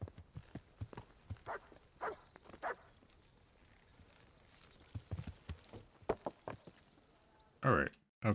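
Rhythmic hoof clip-clop of a horse walking in the medieval game Kingdom Come: Deliverance, with a dog barking now and then and a louder burst near the end.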